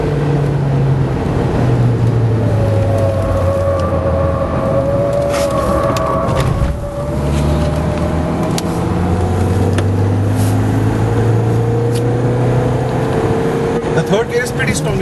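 A Mahindra XUV500 SUV on the Buddh F1 track, engine droning and rising steadily through the gears with a brief dip at a shift, loud wind and road noise around it, someone talking over it.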